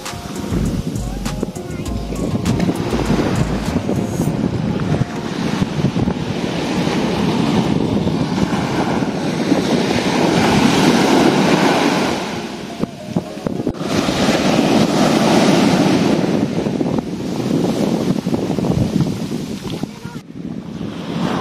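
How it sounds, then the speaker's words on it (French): Big waves roll in and break on a beach at Phuket, producing a loud, surging roar with swells that rise and fall, along with gusts of wind buffeting the microphone. "De gros rouleaux sur cette plage."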